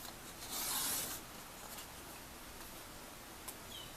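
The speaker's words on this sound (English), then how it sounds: "let me trim just a little bit off the edge here." Craft paper is trimmed along its edge with a short, soft rasping cut near the start, followed by faint rustling and a small tick, quiet and close with no voices.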